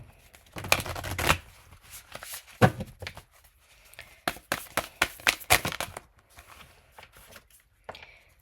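Tarot cards being shuffled in bursts of crisp riffling and slapping, with several quick flurries separated by short pauses, close and fairly quiet with no talking.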